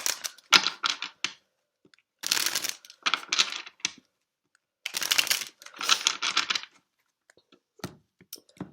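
Tarot cards being shuffled and drawn, with several bursts of crisp riffling and flicking separated by short pauses, close and moderately loud with no talking.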